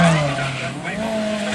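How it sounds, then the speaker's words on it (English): Drift cars at a drifting festival finishing smoky burnouts, with a loud, close tire squeal and engine drone sustained throughout a short burst. "as they finish up those big smoky burnouts and make their way back to the paddock"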